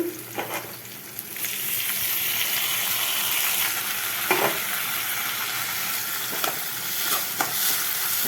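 Tomatoes hiss and sizzle as they sauté in a pan with onion, garlic and dried fish for a traditional dish, with a steady close crackle and a few stirring scrapes.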